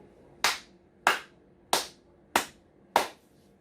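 A church congregation's five evenly spaced sharp claps, each decaying quickly, in a slow steady rhythm with no voices.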